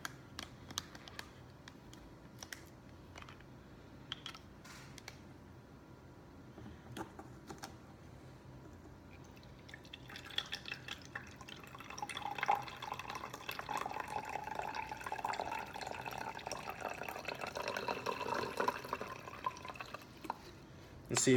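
Water pours out of a plastic bottle into a sink during an instant ice experiment; quiet clicks and drips give way after about ten seconds to a steady, moderately faint splashing pour.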